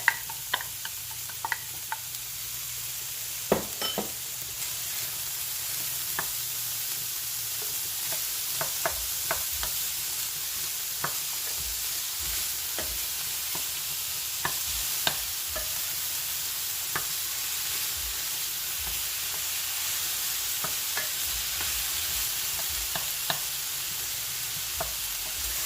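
Onions cook in a skillet for an Irish shepherd's pie, a soft continuous sizzle broken by scattered light clicks and taps of a utensil over a long stretch.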